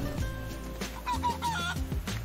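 Chickens clucking in the video game Guacamelee 2, several quick clucks and squawks close by over a constant layer of game music.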